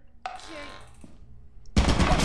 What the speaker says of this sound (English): There's a turret in here.